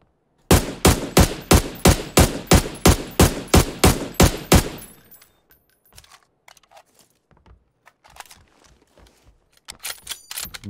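Automatic gunfire in PUBG: a steady burst of about a dozen loud, evenly spaced shots over four seconds, then scattered faint clicks and light clatter in near silence.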